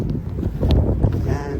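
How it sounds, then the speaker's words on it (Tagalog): Strong wind buffeting the microphone on a snowy Jura mountain pass at Col du Marchairuz, Switzerland, a steady loud rumbling roar throughout with no talk. "Lakas ng hangin."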